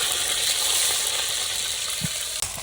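Ginger, garlic and cumin paste frying in a pan in a village kitchen, a dense, steady hiss of sizzling oil with a soft clink near the end.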